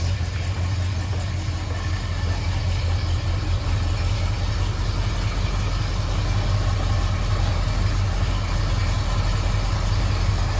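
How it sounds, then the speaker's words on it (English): A 1973 Ford Mustang coupe's exhaust idles steadily up close, a deep, even rumble that continues unchanged throughout with no talking. "Exhaust sounds nice."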